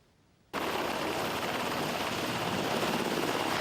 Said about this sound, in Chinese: 这么大的普鲁佩达声音嘛真大，驾驶要准备进行直升机的起落站